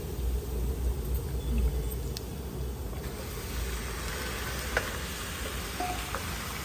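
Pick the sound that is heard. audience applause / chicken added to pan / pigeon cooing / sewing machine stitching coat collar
chicken added to pan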